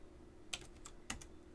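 Computer keyboard typing during network router configuration: a few sharp, close keystrokes spaced out over a quiet background.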